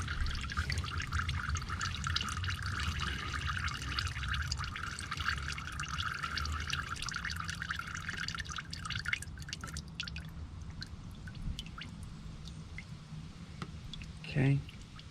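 Motor oil draining from the oil pan of a 2012 Nissan Rogue 2.5S during an oil change, a steady trickle and drip in a garage, faint under background noise, with a brief knock near the end.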